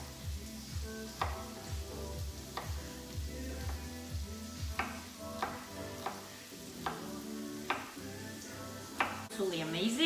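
Garlic sizzling in oil in a pan while a ribeye steak with black pepper cream sauce is cooked, a steady hiss punctuated by regular clinks of a utensil stirring, ending with a louder burst of sizzle.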